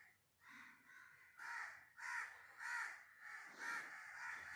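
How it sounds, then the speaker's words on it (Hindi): Crows cawing outside a home, a series of about six or seven harsh caws in a steady rhythm, moderately distant and faint, with no talking. "थोड़ी आप कौओं की आवाज़ आ रही है"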